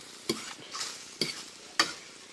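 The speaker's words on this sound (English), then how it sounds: "Mix up the eggs." Scrambled eggs are stirred in a hot pan with a utensil, three sharp scrapes against the pan over a soft, steady sizzle.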